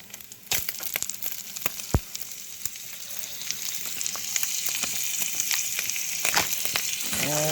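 Butter melts and sizzles in a sausage pan for biscuits and gravy: a crackling sizzle builds gradually and grows steadier, with a few sharp taps and clicks near the pan, close and moderately loud, no talking.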